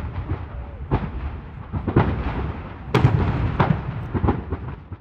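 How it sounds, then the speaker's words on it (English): Hundreds of nitrous oxide and butane canisters exploding in an industrial fire north of Detroit: a series of sharp distant booms and cracks, several spaced a second or so apart, over a continuous low rumbling roar. "hundreds of explosions north of Detroit send fireballs and shrapnel into neighborhoods as far as a mile away."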